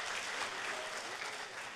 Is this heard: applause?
yes